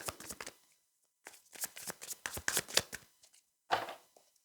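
Tarot cards being shuffled in quick riffling bursts, crisp and close, with brief pauses between several rapid flurries of card slaps.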